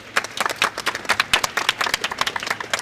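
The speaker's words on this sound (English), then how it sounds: "Round of applause, please." A small audience at a live event on discrimination and neglect in water, sanitation and hygiene gives a round of applause: close, sparse, uneven individual claps rather than a full roar.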